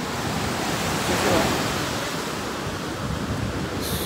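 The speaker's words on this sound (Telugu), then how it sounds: "బాబా అలలు అయితే ఏమొస్తున్నాయి, ఫుల్ జనాలు ఉన్నారు." Ocean surf at RK Beach in Vizag (Visakhapatnam), a loud, broad wash of breaking waves and wind rumble filling the whole stretch, close to the shore on a crowded beach.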